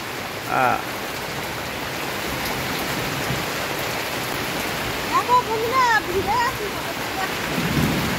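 Steady heavy rain from Cyclone Remal hisses throughout, with a few faint birdlike chirps and a low rumble near the end.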